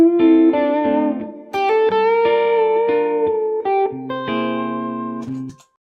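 Jazz blues phrase on electric guitar, a run of short plucked notes including a half-step string bend, lightly effected with a touch of reverb, played alone and stopping abruptly at the end.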